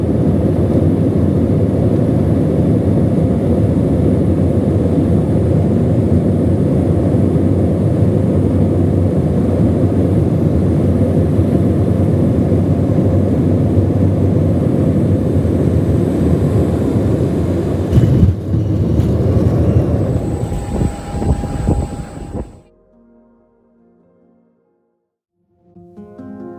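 An airplane on a trip to Kotzebue, Alaska, with a broken-down delay, heard from inside the cabin as a loud, steady engine drone for about twenty seconds before it cuts out to near silence.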